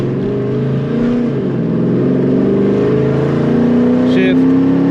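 A 2006–2010 Dodge Charger fitted with working paddle shifters revs loud and close, its engine note climbing, dipping briefly at a shift, then rising again, with a voice faintly underneath.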